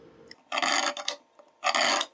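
A hand saw cuts a steel channel indoors in two loud rasping bursts of back-and-forth strokes, separated by a short pause.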